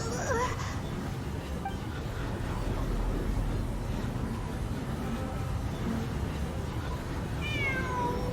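Game cat meowing in Genshin Impact, a few high pitched mews near the start and again near the end, heard over a steady low background hum.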